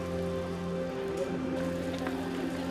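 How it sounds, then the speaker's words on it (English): Rain falls steadily in Copenhagen, a continuous patter on surfaces alongside a low droning hum, at moderate level with no voices. "the forecast rain had finally arrived"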